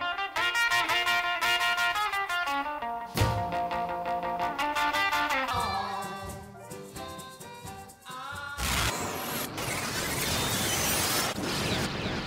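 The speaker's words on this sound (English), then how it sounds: "I should have practiced more on the guitar, and I might have been able to sound like this." Electric guitar carries a recorded rock song with dense harmonic chords and lead lines over a full band mix, loud and steady throughout, shifting to a noisier, crash-heavy wash of distorted sound near the end.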